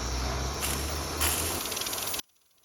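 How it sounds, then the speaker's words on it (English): A loud, steady hiss of steam drives a small homemade turbine with a faint whirring rattle underneath, then abruptly cuts off to near silence. "The turbine is running but not as good as I want it to be"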